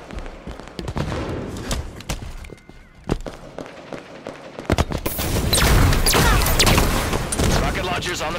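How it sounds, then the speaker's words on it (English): A grenade explodes in Halo 5 on the map White Cell amid sharp gunshots, the blast giving way to a loud, sustained roar of combat noise while a player talks over the early part. "Throwing grenade."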